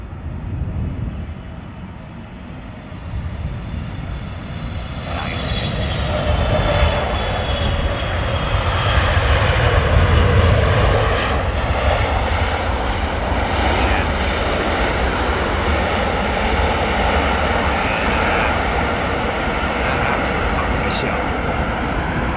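A jet airliner comes in for a crosswind landing at London Heathrow Airport in wind and rain, its engine roar steady and building slightly, with a person talking over it.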